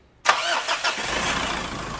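A car engine cranks and catches after an Aeropak Super Oil Treatment was added to its oil, bursting on loudly from silence and settling into a steady, rough idle close by.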